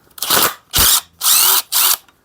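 Power tool spinning out a threaded stud from a supercharged Audi 3.0T engine during a teardown, four loud close bursts of whirring with short pauses between them.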